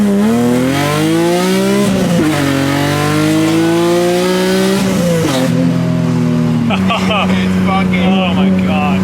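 A BMW E30 fitted with an S54 engine accelerates hard in traffic, its loud engine note climbing through the revs, dropping at a shift, then settling into a steady rumble with voices faintly underneath.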